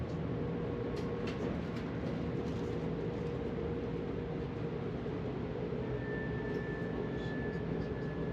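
Steady low rumble of a train rolling along the tracks, continuous and even, with a faint high whine appearing partway through; no voices.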